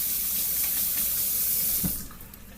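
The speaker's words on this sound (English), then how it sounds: "let me wash my hands a little." Water runs loudly from a kitchen tap as hands are rinsed under it, a steady close rushing splash that cuts off near the end, with no speech.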